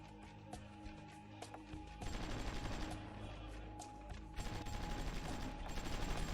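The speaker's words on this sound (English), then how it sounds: "And these two, oh, being bombarded in here somewhere." Artillery bombardment in a strategy war game rumbles as dense, continuous volleys of distant explosions and fire, swelling in two heavier waves over a low mechanical background.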